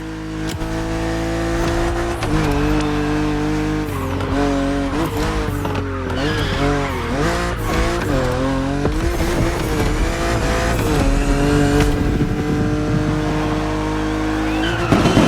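A BMW car in The Crew Motorfest video game drives with a loud, steady engine drone, rising and falling revs and repeated tire squeals close up, with no talking.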